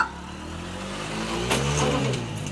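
A motorcycle engine revs up from a steady idle, rising and swelling briefly before easing off, fairly close by.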